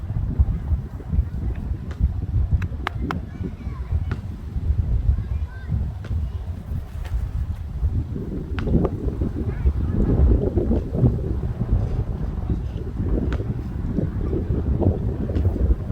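Steady headwind gusting across an open disc golf field, a dense low rumble of wind buffeting the microphone throughout, swelling louder in the second half, with faint voices underneath.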